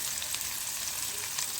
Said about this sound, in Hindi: इसमें आलू बैंगन टमाटर हल्दी नमक सब डाल के हल्का सा भून लिए हैं, कस लिए हैं, हल्का फ्राई कर लिए हैं